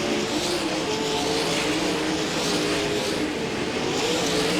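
Outlaw sprint cars lap the dirt oval at Wilmot Raceway, their engines blending into a continuous loud roar. The howl swells and dips as cars work through traffic, with no break in the noise.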